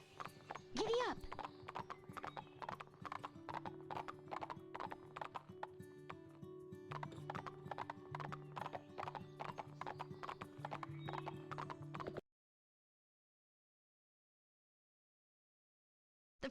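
Rhythmic hoof clip-clop of a galloping horse in the Barbie Horse Adventures video game, steady and close over game music with a brief whinny near the start, stopping abruptly into silence.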